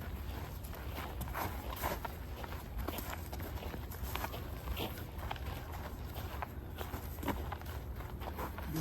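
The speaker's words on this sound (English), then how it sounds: "The boys walk through the boreal forest, worried and nervous of the dangers surrounding them" Footsteps of several people walking through a wet, muddy, moss-covered bog in boreal taiga forest, a steady run of squelching, crunching steps that stays close and fairly loud the whole time, with no talking.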